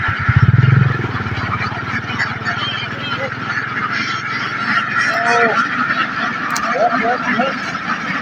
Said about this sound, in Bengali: দেখুন হাঁস, এখানে 1000 হাঁস আছে